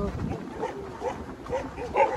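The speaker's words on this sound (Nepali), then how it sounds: "यत्रो कुकुरहरू भुक्दै आएर" Several dogs bark and yelp together close by in short, overlapping bursts, with excited voices mixed in underneath.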